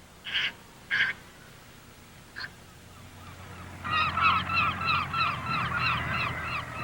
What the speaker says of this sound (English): one sound to conjure up a picture of the coast, it would have to be the herring gull